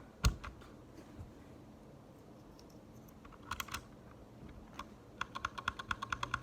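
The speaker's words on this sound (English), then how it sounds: "Oh yeah, it's definitely much more clicky unlubed." Unlubed Gateron Red linear keyboard switches are pressed, first a few scattered clacks, then a quick, even run of crisp keystrokes near the end, close and fairly quiet.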